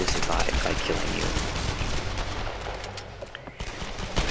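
Gunfire in the Tomb Raider video game, a dense run of rapid shots and bursts that fades somewhat toward the end, heard under a speaking voice.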